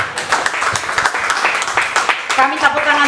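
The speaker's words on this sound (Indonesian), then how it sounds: "boleh tepuk tangan buat Tuhan" A church congregation claps together in praise of God during a worship service, a dense burst of applause with a voice speaking over the end of it.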